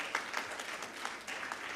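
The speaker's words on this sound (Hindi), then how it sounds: "हमारे वियतनाम से आए सभी मित्रों के लिए भी एक बार तालियां बजा दीजिए" Faint audience applause in a hall for visiting friends from Vietnam at an India–Vietnam cultural event, steady distant clapping throughout the brief moment.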